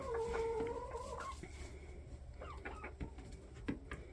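Chickens and young chicks cluck and chirp in a backyard coop, with overlapping close calls and short clucks coming in irregular bursts at moderate volume, with no voices.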